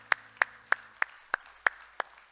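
Slow, evenly spaced hand claps at a church service, seven sharp distinct claps about a third of a second apart, fairly close and clear with quiet between them.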